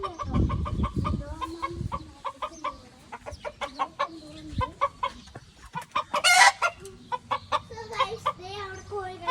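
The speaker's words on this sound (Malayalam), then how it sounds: "അവിടെ കോഴികളൊക്കെ ഉണ്ട്." Chickens in a home garden cluck in short repeated bursts while a rooster crows once midway, close and clear, with a voice speaking briefly in the background.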